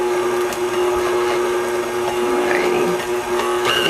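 Electric mixer whirring steadily through healthy oatmeal cookie dough with cranberry raisins, a loud continuous motor drone with faint knocks against the bowl, close and unbroken.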